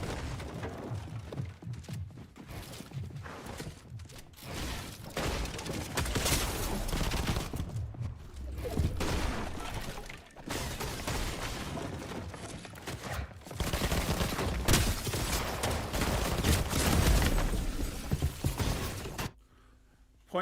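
A .50 cal weapon fires repeatedly in Fortnite, with loud, dense bursts and impacts running almost continuously before cutting off near the end.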